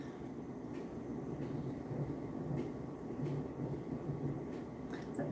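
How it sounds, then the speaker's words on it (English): Low, steady rumble of distant thunder rolling continuously beneath a quiet indoor room, broad and muffled with no sharp cracks, heard during home cooking. "It sounds like thunder."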